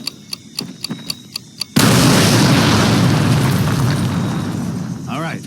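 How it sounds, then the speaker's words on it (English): A demolition charge blows up an artillery piece in the World War II shooter Medal of Honor: Pacific Assault. A run of sharp ticks comes before a sudden, very loud blast, and its rumble decays slowly over several seconds. "Tommy, get a demo charge on that artillery and let's keep moving. Fire in the hole!"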